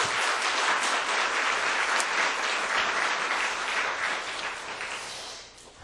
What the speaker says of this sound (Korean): 우리 이분들 격려의 박수 한번